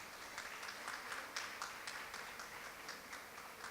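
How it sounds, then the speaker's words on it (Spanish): Audience applause at an education seminar after a panelist is introduced, scattered hand claps forming a light, irregular patter that sounds faint and somewhat distant in the room. "Un fuerte aplauso para Cristal Cebé."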